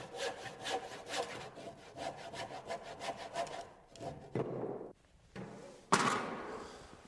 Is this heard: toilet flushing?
no